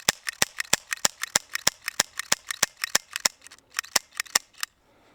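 A gas-powered Sig Sauer SP2022 pistol running low on gas fires a rapid string of about twenty sharp, snappy shots in quick rhythm outdoors in the cold, loud and close, with no voices.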